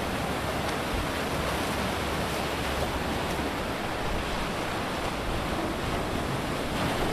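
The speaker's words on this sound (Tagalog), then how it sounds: "ang lakas ng alon" Strong surf pounds White Beach in Boracay at high tide, a loud, unbroken roar of breaking waves mixed with wind buffeting the microphone throughout, with no voices.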